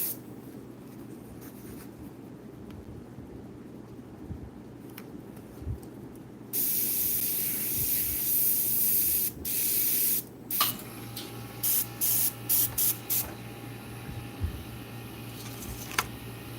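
An Iwata CM-SB airbrush spraying Createx Illustration paint onto Claybord, quiet handling noises at first, then a long close hiss followed by a series of short, rhythmic spray bursts.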